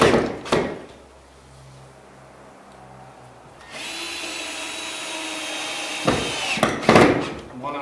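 A power screwdriver drives screws through sheetrock into wood backing while a water-damaged garage ceiling hole is patched. A sustained close motor whine of a couple of seconds is framed by low hum and sharp clunks and knocks.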